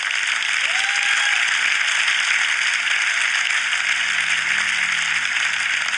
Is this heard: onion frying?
no